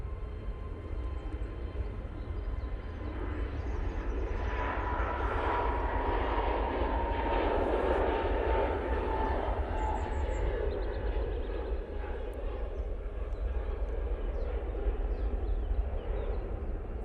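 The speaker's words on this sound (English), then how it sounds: "EasyJet now on the roll." An EasyJet airliner bound for Heraklion rolls for takeoff at Manchester Airport, a continuous moderate engine roar that builds gently in the middle and holds steady.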